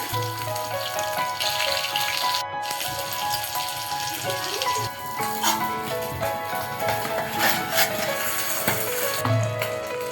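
Fish fillets coated in semolina fry in hot oil at home, giving a steady close crackling sizzle throughout with faint background clatter and no talking.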